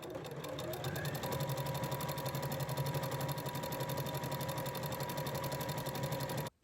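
A sewing machine stitches the hem on the diagonal pocket openings of a hoodie, a fast steady mechanical whir and rapid needle patter running close for several seconds before stopping abruptly.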